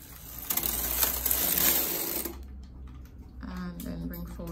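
A knitting machine carriage is pushed across the needle bed to knit a row, a loud close rattling whir for about two seconds, followed by quieter clicks and a speaking voice.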